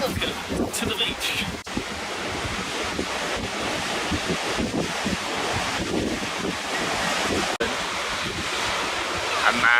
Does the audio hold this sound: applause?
no